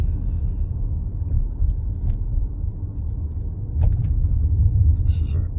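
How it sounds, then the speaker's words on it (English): A Lexus LS400 rolls along a bumpy, cracked road, heard from inside as a steady low road rumble and engine drone that swells slightly toward the end, with faint thumps over the pavement. "All right, we'll do a short driving video."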